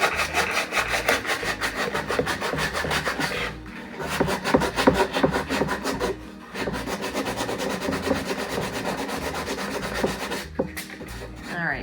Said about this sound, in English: So we're just gonna sand that glue off.